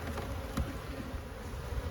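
Honey bees swarm and buzz around a beehive super, a dense, steady drone that stays close and fairly loud throughout with no voices.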